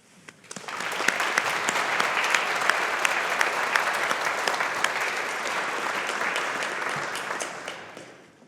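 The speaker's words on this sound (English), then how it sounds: "show appreciation and gratitude with a round of applause to them" A graduation ceremony audience claps in a sustained, dense round of applause that starts abruptly and holds steady and loud for several seconds before fading at the end.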